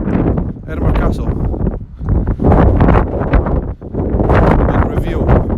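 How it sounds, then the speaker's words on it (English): Strong gusting wind roars across the microphone on a mountaintop in Edinburgh, loud and continuous with swelling and dipping gusts. "it is windy because we're on top of the mountain"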